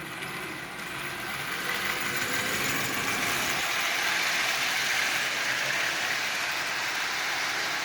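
Marx 490 toy train fitted with a replacement can motor and running on a 12-volt battery controller, giving a steady, faint motor whir with a soft mechanical hum that holds an even level throughout.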